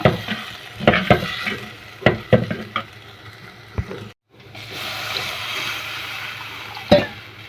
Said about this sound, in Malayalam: മുളക് പൊടി എല്ലാം ഇതിലേക്ക് ഇട്ട് കൊടുക്കാം ഇതൊന്ന് ഇളക്കി കൊടുക്കാം